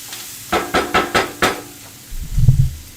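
Garlic for pasta sautés in a pan, with five evenly spaced scraping stirs or taps followed by a short, low sizzling rush, close and clear.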